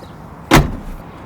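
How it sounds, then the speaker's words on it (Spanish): A Mazda MX-30 car door shuts with a single solid thud, close and loud, then a short muffled decay into quiet. "Voy a cerrar la puerta a ver cuál es la sensación."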